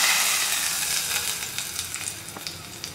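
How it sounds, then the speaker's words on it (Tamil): Hot mustard seeds and dried red chillies tempered in oil and poured into coriander chutney, giving a steady loud sizzle that slowly fades, with faint crackles and pops scattered through it and no voices. "தாளிப்பை இப்போ இந்த சட்னியில் சேர்த்துடலாம்."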